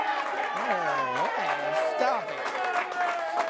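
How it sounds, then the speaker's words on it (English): A sports-show studio audience cheers and claps in a lively mix of voices and hand claps, with a host talking loudly over the crowd throughout. "then you got to cheer louder."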